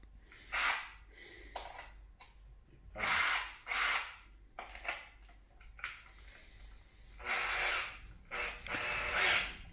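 A power drill fitted with a hole saw bites into material in several loud bursts of whining and grinding, separated by short pauses, close to the listener.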